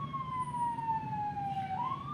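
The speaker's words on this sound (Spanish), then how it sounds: "aquí está sonando una ambulancia" An ambulance siren wails outside in a steady, gliding tone that dips and rises again, sounding fairly distant over low background rumble.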